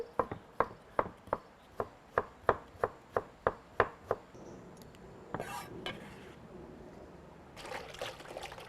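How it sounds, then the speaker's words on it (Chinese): Pickled ginger and pickled chilies chopped on a board, about a dozen sharp, evenly spaced knife strikes close up, then softer handling and rustling, with a brief voice near the end. "然后再切点泡生姜、泡海椒，增加风味"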